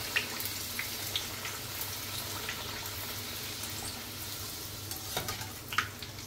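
A puri frying in hot oil for a dhaba-style halwa puri breakfast, steady bubbling sizzle with a few light splashes and clicks, moderately quiet and close, without speech.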